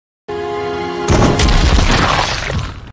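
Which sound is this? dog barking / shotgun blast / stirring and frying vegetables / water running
shotgun blast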